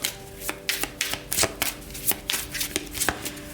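Tarot cards being shuffled by hand at close range, a run of crisp riffling bursts and soft slaps in an uneven rhythm, heard alone without talk.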